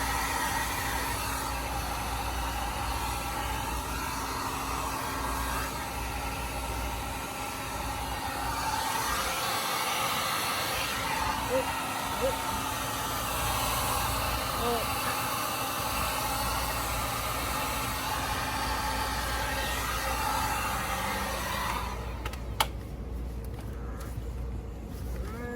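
A heat gun warms plastic vapor barrier sheeting so it melts into place, producing a long, steady, close blowing hiss with little change in level, ending with a few faint knocks.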